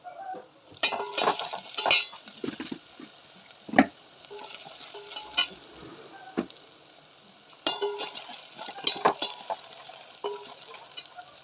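Onions sizzle and fry in a pan at home while a utensil stirs and scrapes intermittently, with occasional louder clatters against the pan and no speech.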